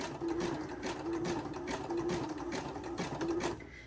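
A sewing machine runs a wide, thick zigzag stitch of about 7 millimetres, giving a fast, even mechanical whirr with a regular pulsing tone that stops abruptly near the end.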